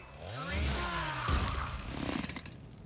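A chain blade chainsaw in Warhammer 40,000: Rogue Trader revs in sweeping rising and falling whines, a harsh mechanical roar layered with a clanking impact and game effects.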